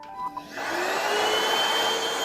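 An Ecohome EVC-999 vacuum cleaner switches on after a couple of faint clicks, its motor spinning up within half a second into a steady, close, whining roar that holds at a constant pitch.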